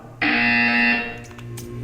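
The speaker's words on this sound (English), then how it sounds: "When you hear the buzzer, stare at the art." A loud, harsh electronic buzzer sounds once in the Portal 2 video game, a sustained nasal tone lasting under a second before fading, followed by faint clicks.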